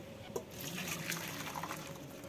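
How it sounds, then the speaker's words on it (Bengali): Hot water poured into a cooking pan in a home kitchen, a steady close splashing pour lasting a couple of seconds with a faint drip-like patter and no voices. "গরম জল বসিয়ে দিয়েছিলাম, জলটাকে এখন ঢেলে নেব"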